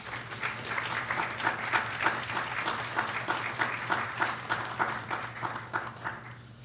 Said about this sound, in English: You deserve to applaud yourselves.